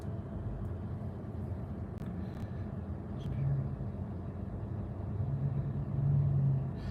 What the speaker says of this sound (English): that's my AC on